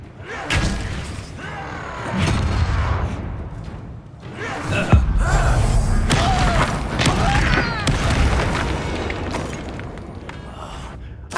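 Bombarda blasting spell explosions in Hogwarts Legacy, several deep booming blasts with rumbling debris and crashes spread across the clip, loud and close amid ongoing combat sounds.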